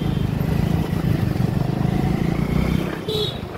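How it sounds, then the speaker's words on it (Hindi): A motorbike ridden on a road, its engine droning steadily and close with rattling and passing traffic noise, a voice briefly heard near the end. "तो मेरे साथ जा रहा है नैति बाइक चलाता हुआ"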